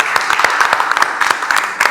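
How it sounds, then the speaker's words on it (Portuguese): Group of young men clapping together in a casual indoor gathering, a dense burst of hand claps lasting under two seconds, fairly loud and close with no talk over it. "salva de palmas pros caras mais uma vez aí"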